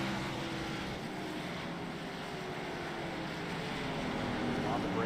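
Race car engine droning steadily at Martinsville in a sim racing game, a constant loud hum with faint tonal whine, with commentary voices talking over it.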